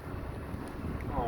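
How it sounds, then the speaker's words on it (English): Outdoor wind at a building construction site blows steadily into the microphone as a constant low rumble across the brief moment. "It's a little windy out here."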